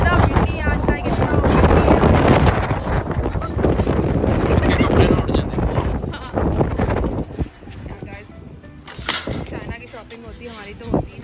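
Strong outdoor wind buffeting the microphone, heavy low rumbling gusts that roar loudly for most of the clip before easing into intermittent blasts, with people talking faintly underneath.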